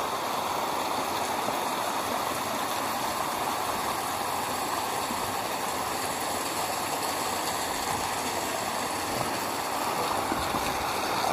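Water from the Singa Nagara sacred spring, a bathing spring, pours steadily in a loud continuous rush that stays close and unbroken, with no voices over it.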